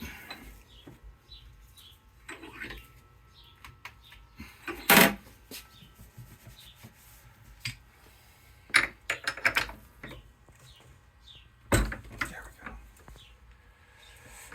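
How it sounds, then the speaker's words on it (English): A tool spins and loosens the inner tilt cap on a Yamaha F90–F115 outboard trim cylinder held in a vise, giving scattered metallic clicks, scrapes and a few sharp clanks against quiet background. "Now we are spinning our inner tilt cap to get it loose so we can remove the piston subassembly"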